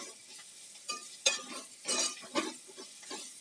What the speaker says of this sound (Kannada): ಕಾಯಿ ತುರಿ ಮಾತ್ರ 1 ನಿಮಿಷದಷ್ಟು ಬಾಡಿಸ್ಕೊಳ್ತೀನಿ ಎಣ್ಣೆನಲ್ಲಿ